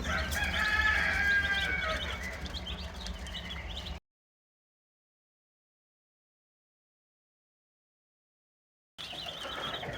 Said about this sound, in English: Chicks are doing well, they're eating well, drinking well.